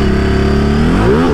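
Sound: Ducati Multistrada 950S motorcycle engine revving

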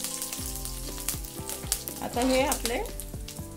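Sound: multigrain chiwda ingredients sizzling in hot oil tempering

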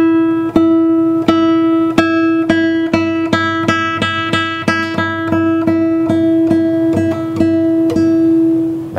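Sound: J.Godoy J3 acoustic guitar played with soft tone

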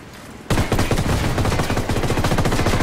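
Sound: gunfire from video game Ghost Recon Wildlands

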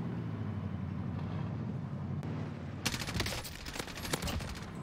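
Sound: gunfire in a gunfight, from the video game Warzone

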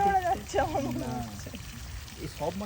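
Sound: water of a fountain at a Japanese temple

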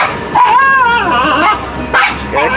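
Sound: large dog barking

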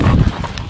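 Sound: horse hooves while riding

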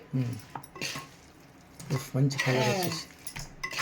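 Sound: mixing chicken with biryani masala using spoon

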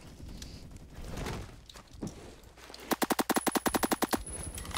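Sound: carbine rifle firing in a video game

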